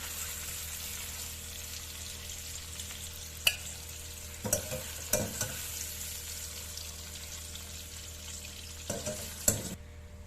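Mixed vegetables lightly frying in oil in a kadai, with a steady low sizzle broken by several sharp clanks and scrapes of stirring, close and alone.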